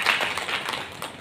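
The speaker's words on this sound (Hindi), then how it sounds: "उन साथियों के लिए भी आप लोग जोरदार तालियों से एक बार अभिनंदन करें" Audience clapping at a Hindi public speech event, a dense broadband patter of many hands filling the room, fairly steady and continuous without any voices over it.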